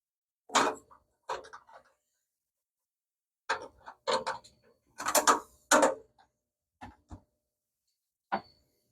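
A metal bolt slides through a hole during shop work: a series of short, sharp metallic clicks and scrapes in irregular bursts, close and fairly quiet, with pauses in between.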